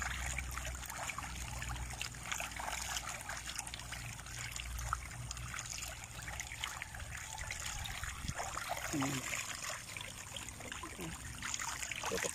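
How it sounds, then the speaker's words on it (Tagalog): Tilapia on a fish farm feed at the water surface, a continuous low splashing and trickling that stays quiet and fairly even, heard alone. "Check nyo kung gaano sila kabilis kumain."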